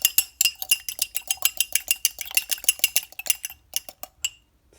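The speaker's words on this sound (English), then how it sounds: "right now I'm going to whisk my eggs" Eggs whisked briskly in a bowl, a close, steady run of rapid metallic clinks that slows and stops near the end.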